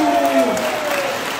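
Applause breaks out as someone arrives at a press conference in a church hall, clapping sustained under a voice speaking over it.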